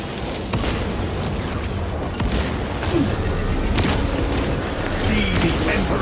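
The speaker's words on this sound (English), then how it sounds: "Frag grenade." A frag grenade detonates in Warhammer 40K Space Marine 2, a few sharp booming bursts punching through a dense, constant roar of battlefield noise, loud and close throughout the clip.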